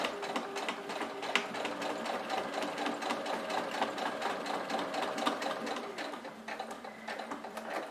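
A sewing machine stitches a fabric seam on a lengthened 3.5 stitch for a cloth bread basket, a fast, even mechanical rattle running close and steady, easing slightly near the end.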